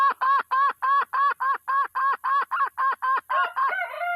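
A red junglefowl gives a rapid series of about fifteen loud, evenly spaced clucking calls, close by, ending in a drawn-out cackle.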